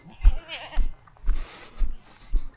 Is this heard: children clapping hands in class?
no